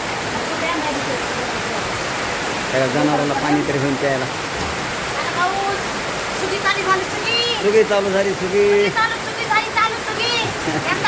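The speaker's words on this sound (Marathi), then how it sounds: "अरे पाऊस चालू झाला लय पाऊस पडला बरं" Heavy rain pours down steadily in a rural farming area, a continuous broadband hiss like water drumming on surfaces. People talk over it, their voices rising at intervals above the downpour.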